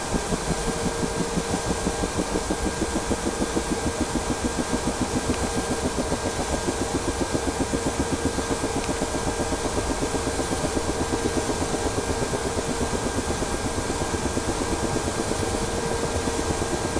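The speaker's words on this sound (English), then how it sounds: "let's wait a moment for your right engine to spool up" A Ka-50 helicopter's right engine spools up during a startup sequence in DCS World, a steady loud turbine drone with a fast rhythmic rotor chop continuing throughout, no talking.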